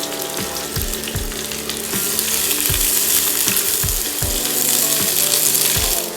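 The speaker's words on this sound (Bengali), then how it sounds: "সেই পেঁয়াজটাকে আমি এর মধ্যে দিয়ে ভেজে নেব" Chopped onions frying in a pan, with loud, dense sizzling close by and sharp intermittent knocks of a spoon against the pan.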